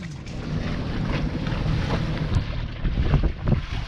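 The sailboat Pierrot sets off from a Portuguese harbour: a close, low rush of wind and water against the hull, with gusty buffeting and wave slaps and no one speaking.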